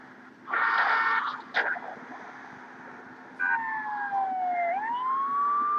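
A police car siren wails in a driving video game on an HP TouchPad, loud and close, rising and falling steadily after a brief burst of engine noise.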